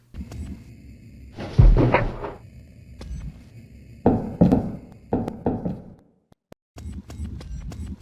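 Door sounds from the game Guardian Angel: a handful of separate knocks and thunks, loud and close, spaced irregularly with short quiet gaps between them.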